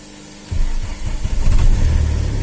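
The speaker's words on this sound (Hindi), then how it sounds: "देखिए गाड़ी स्टार्ट करके दिखाते हैं।" Tata Safari 2.2 diesel engine cranking after near silence, then catching and running with a loud, rough low rumble that builds steadily.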